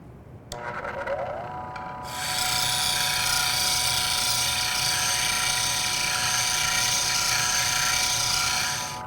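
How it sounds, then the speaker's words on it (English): A bench grinding wheel spins up with a rising whir, then settles into a loud, steady abrasive rasp as a steel bowl gouge slides back and forth across it, grinding its wings at about 45 degrees. "I'm just going to slide the tool back and forth across the grinding wheel, grinding away the top of those wings at about a 45 degree angle."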